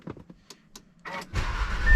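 Audi A3 hatchback engine starting in a workshop, a few clicks and a short cranking whir, then the motor catches and settles into a steady, loud idle.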